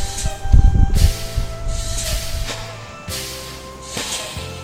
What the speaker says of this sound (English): bleed out the brakes